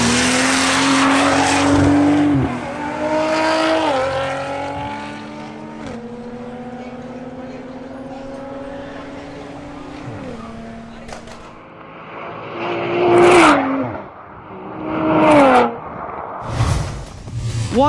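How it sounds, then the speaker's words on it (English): Race cars, among them a BMW M240i xDrive and an Audi RS5, run at a motorsport event, with long rising and shifting engine notes, then sharper passes and tire noise near the end, fairly loud. "Juan Trejo in his BMW M240i xDrive did not improve his previous record"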